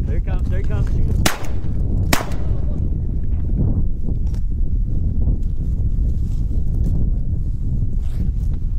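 Shotgun fired at ducks during a duck hunt, two sharp loud blasts close together near the start, followed by wind, rustling and outdoor ambience with faint voices underneath.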